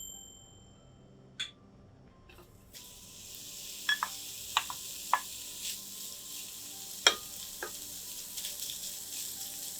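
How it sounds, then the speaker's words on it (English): Maple bacon sizzles and fries in a pan, a steady soft crackle with occasional sharp pops and a few utensil clicks scattered over about ten seconds, no voices. "we're going to start off with a pound of maple bacon"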